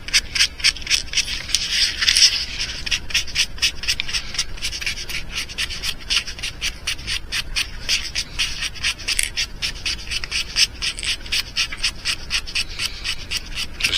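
Steady, fast scraping rasp of sandpaper shaping the plastic snout of a custom mouse fishing lure, with close rhythmic strokes continuing evenly throughout.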